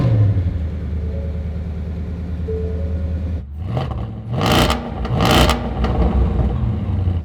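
A Shelby Mustang GT500 engine cranks and fires up partway through, with two loud revs rising over a steady low idle, close by.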